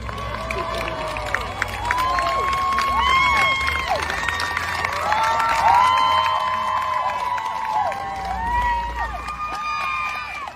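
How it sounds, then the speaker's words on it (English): A crowd outside a courthouse cheers and claps for a defense attorney, a sustained roar of voices with scattered whoops and steady applause, loud and dense throughout, with shouting mixed in. "Applauding Clancy's attorney for defending her in court"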